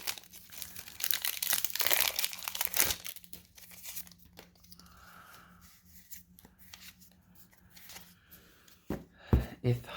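Time Spiral Remastered booster pack foil crinkles and tears close up, loud and busy at first and then quieter and intermittent, ending in a few sharp crackles.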